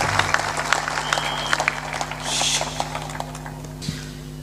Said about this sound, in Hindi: ताली बजा दिया करो तुम